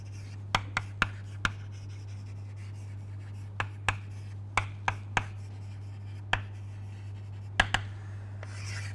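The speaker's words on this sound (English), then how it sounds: "let me write that down here" Chalk tapping and scraping across a lecture board while a mathematical theorem is written out, sharp irregular clicks and short strokes spread over several seconds above a steady low electrical hum, fairly close, no speech.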